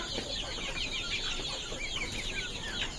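Desi country chickens cluck and chirp together in a poultry pen, a faint, steady chorus of overlapping calls with no voices over it.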